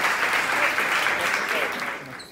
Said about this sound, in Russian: Очень активные зрители, которые громко хлопают.